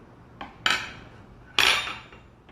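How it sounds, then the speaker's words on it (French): A spoon stirs salt into a container of water, producing three clinking knocks against the vessel, the last two louder and ringing briefly, with no talk. "vous mettez le sel dans l'eau et vous remuez"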